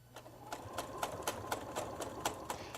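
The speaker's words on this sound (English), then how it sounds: "Now I'm going to do a basting stitch to hold it together before I do my gathering stitch." Sewing machine running a basting stitch through tulle, a steady close mechanical whir with evenly spaced ticking needle strokes about twice per second.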